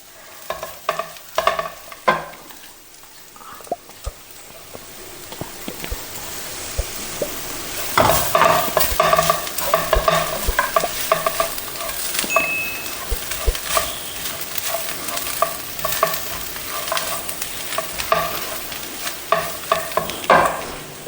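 Powdered dried fish stir-fried in a pan, with steady sizzling and repeated scraping stirs that grow louder and busier partway through, close up and with no talk.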